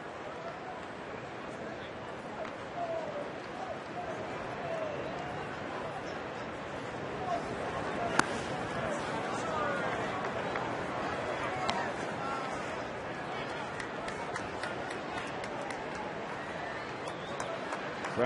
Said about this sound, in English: Crowd still gathering at Coors Field.